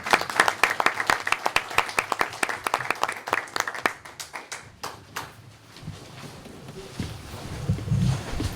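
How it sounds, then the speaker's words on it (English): Audience clapping at a candidate forum, starting as loud, close individual claps that thin out midway, then fading into quieter room noise and scattered sounds. "Let's give Fuzzy a round of applause."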